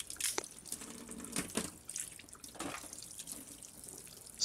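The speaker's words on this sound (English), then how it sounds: "Rinse the crab in some clean water and separate into two halves." A crab is rinsed under a running tap, giving a faint, uneven splashing and trickling with brief drips and wet handling noises and no talk.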